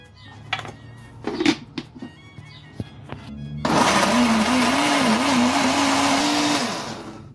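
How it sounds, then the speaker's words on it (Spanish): After some clattering and light knocks, a blender roars to life and whirs loudly and steadily, its motor pitch wavering as it grinds tomatoes with onion, peppers and water. "los vamos a poner en la licuadora con la cebolla, las pimientas,"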